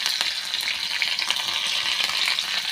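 Green chilies fry in hot oil with mustard seeds and cumin, giving a dense, continuous sizzle with bright crackles throughout, loud and close.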